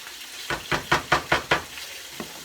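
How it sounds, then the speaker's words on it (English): Bell peppers and onions are stirred in a frying pan, with six close, rhythmic scraping strokes over a sizzle, then one faint final stir. "go ahead and add the colorful paprikas with the onions and all of that good stuff"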